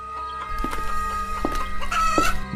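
Cartoon chickens cluck in a farmyard scene, with a few short, close squawks and cackles rising over a steady musical background.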